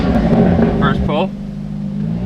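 A tuned Hyundai Elantra N with a new charge pipe pulls hard on an open road, its engine a loud, close roar that rises and then eases off, with a brief voice heard over it.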